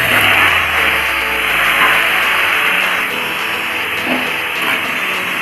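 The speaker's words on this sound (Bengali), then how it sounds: "আলুগুলো এবার একটু হালকা করে ভেজে নেবো" Cut potatoes frying in hot oil in a wok with panch phoron, dried chilli and bay leaf, giving a steady, loud broadband sizzle that holds evenly throughout, with no voices.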